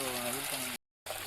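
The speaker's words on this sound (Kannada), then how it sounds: "ಒಬ್ರು ನೀರು ಬಿಡ್ತಾ ಇದಾರೆ" Water gushes steadily while banana plants are watered in a farm garden, a loud broadband rush with voices talking over it, cut by a short gap of silence before the flow returns.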